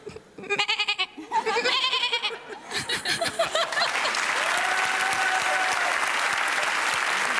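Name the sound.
woman imitating goat bleat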